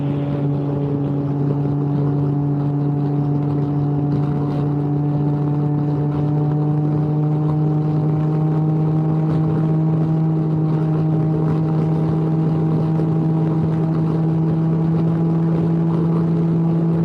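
A Can-Am Ryker three-wheeler cruises on a Texas highway with a steady, loud engine drone. The pitch climbs slowly as it gathers speed, mixed with a constant rush of wind.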